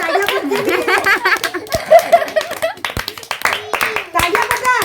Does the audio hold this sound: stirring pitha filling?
no